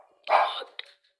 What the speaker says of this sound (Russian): кто-то по подъезду ходит, вот и собака лает